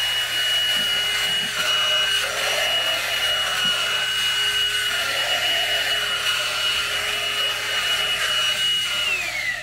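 Bissell Pet Hair Eraser lithium-ion cordless vacuum running steadily while sucking up spilled sphagnum moss, a close, continuous whirring hum with a high motor whine and scratchy rustling, ending with a slight drop in pitch.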